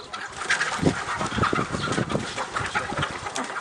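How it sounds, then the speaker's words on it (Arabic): A farmyard flock of chickens clucks busily as it rushes toward feed scattered in a yard, with dense overlapping clucks and squawks, close and fairly loud, heard without talk. "يفتح باب الحظيرة حتى يندفع سرب الدجاج مباشرة نحو المكان"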